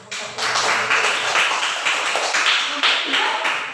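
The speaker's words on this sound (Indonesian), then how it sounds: "tepuk tangan untuk pertanyaan dari kelompok 1" A classroom group claps steadily for a few seconds, a dense patter of hands without pauses.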